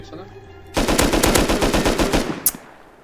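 Loud, close automatic gunfire in the survival video game Rust: a rapid burst of about a dozen evenly spaced shots after a moment of quieter sound, then one more sharp crack.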